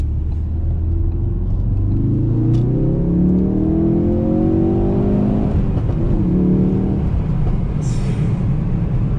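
A Ford Focus RS Mk3 with 350 horsepower accelerating hard on a wet road, heard from inside as a deep engine roar rising steadily through the gears with a shift partway, over constant road and tire noise.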